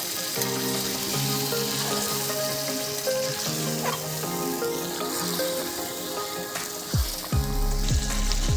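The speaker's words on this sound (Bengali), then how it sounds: "মাংসটা দিয়ে খুব ভালো করে কষানো হয়ে গেছে এবারে সেই মশলা ধোয়ার জলটা একটু দিয়ে দেওয়া হলো" Chicken curry sizzles loudly in a pan as spice-rinse water goes in, a constant crackling fry with a sharper, louder surge of hissing toward the end.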